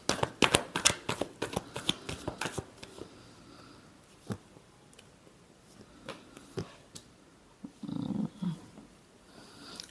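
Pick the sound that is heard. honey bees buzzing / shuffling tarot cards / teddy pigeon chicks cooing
shuffling tarot cards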